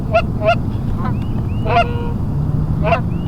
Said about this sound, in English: geese, Tommy, geese!